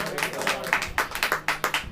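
Congregation clapping in a church service: a steady run of sharp, evenly spaced hand claps, fairly close and moderately loud, with no talking over it.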